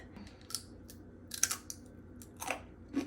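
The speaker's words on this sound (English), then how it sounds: "Can you hear that ASMR? Super crunchy. It's like a meat chip." Close, crisp crunching bites of crispy meat chips come in scattered bursts, loud and brittle against a quiet background, with no talking.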